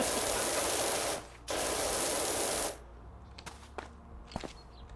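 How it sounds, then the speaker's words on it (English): A pressure washer hose in PowerWash Simulator sprays as a loud, broad, close hiss, cutting out briefly for a moment before resuming, then stopping, followed by faint scattered clicks and taps. "the hose, it's so loud."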